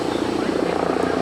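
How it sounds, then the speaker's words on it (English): A helicopter flies over New York City, its loud, throbbing rotor chop filling the air close overhead as a voice speaks beneath it. "There's a helicopter."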